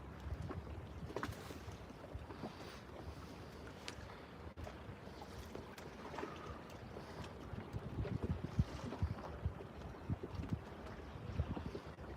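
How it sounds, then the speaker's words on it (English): Steady outdoor wind rumbles against the mic with a low, blustery roar that swells slightly toward the end; no talking. "Really windy out here."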